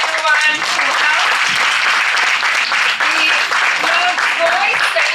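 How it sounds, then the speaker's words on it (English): Loud, dense applause from an audience at a Diwali celebration in an intercultural centre hall, steady and sustained throughout with scattered cheers and voices mixed in. "Big clap for everyone who helped."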